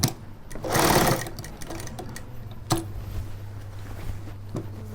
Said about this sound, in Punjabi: ਇੱਕੋ ਜਿਹਾ ਕੱਪੜਾ ਲੈ ਕੇ ਇੱਕੋ ਜਿਹਾ ਟਾਂਕਾ ਮਾਰਾਂਗੇ ਇਹਦੇ ਤੇ